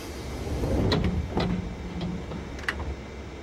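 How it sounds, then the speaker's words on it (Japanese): Sliding doors on a JR Yamanote Line series 205 train rumble and close with a few sharp clunks and thuds over a low mechanical hum. "ドアが閉まります"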